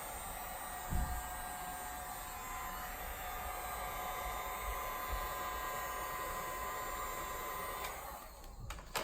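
A heat gun warms the door sill protector on a Honda Accord, a steady broadband blowing hiss held close and fairly loud for the whole stretch, with a few small knocks near the end.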